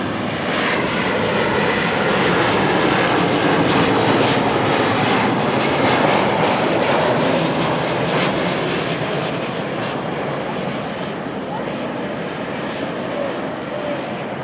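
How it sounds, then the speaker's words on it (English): A Boeing 737 freighter arriving at Auckland Airport on a flight from Sydney, its broad engine roar loud and steady throughout, easing slightly toward the end, with no voices over it. "Arrival being a 737 freighter in from Sydney."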